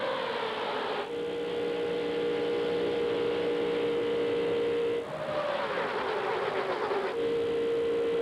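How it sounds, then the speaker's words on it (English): Sterling Marlin's NASCAR Winston Cup stock car at Talladega Superspeedway, engine held wide open at full throttle, a sustained loud droning roar with steady pitch that rises and swells as cars pass, no voices. "you listen to Sterling Marlin's engine, you hear never backing off the throttle, wide open all the way around the speedway"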